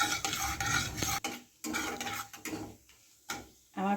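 Finely chopped onions hit hot oil spiced with cumin and nigella seeds, then a spoon scrapes and stirs them in the pan, clattering in bursts with short pauses under a soft sizzle.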